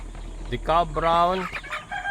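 Deca Brown and Rhode Island chickens cluck close by, a short burst of drawn-out, throaty calls rising and falling over a faint low hum.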